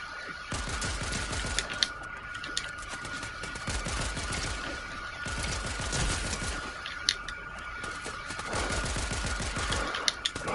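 Pistol gunfire in a video game, fired in fast repeated bursts of sharp cracks with short pauses between volleys, loud and close throughout.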